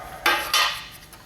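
Fiberglass filler for a 1992 Hurricane Sundeck transom repair mixed in a container, two quick scraping clinks of a tool against the vessel, close and short, no voices.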